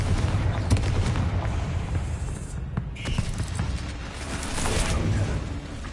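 Confringo blasting-spell explosions in the Hogwarts Legacy video game: a continuous rumbling barrage of booms and crackling bursts, dense and fairly loud, with no clear speech over them.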